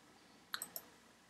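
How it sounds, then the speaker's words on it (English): Three quick, quiet computer mouse clicks land in close succession while a button is pressed in Tinkercad, with no talking. "I'm going to zoom in clicking on this button"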